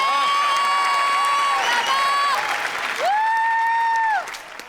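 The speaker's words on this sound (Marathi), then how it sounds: "जोरदार टाळ्या झाल्या पाहिजेत अरुण कदम यांच्या आसाठी." A comedy show audience claps loudly, with cheers and whoops over the applause, while a voice holds long sung or drawn-out tones above the crowd before the noise fades.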